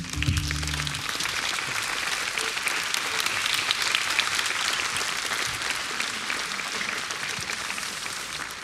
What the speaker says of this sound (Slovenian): Zdaj pa mi lahko publiki zaploskamo.